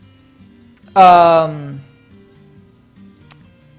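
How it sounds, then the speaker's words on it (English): A single bright, harmonic chime-like alert from Dwarf Fortress signals hot stone being located, ringing out once, loud and close, then fading over about a second against a soft background hum. "it's the sound of hot stone being located"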